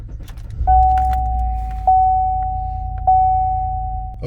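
A Chevrolet Silverado 5.3L pickup engine cranks and catches, then settles into a steady idle with a sustained tone and small surges, close and loud with no talking.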